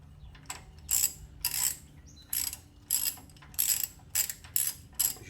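A ratchet wrench clicks in short repeated bursts, about eight strokes, as it loosens a carriage bolt under a 1947 GMC truck, close and clear with no talking.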